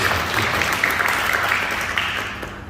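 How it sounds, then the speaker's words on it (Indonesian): A church congregation at a Sunday worship service claps together for God, a brief steady burst of applause that tapers off toward the end. "Beri tepuk tangan dulu ya buat Tuhan."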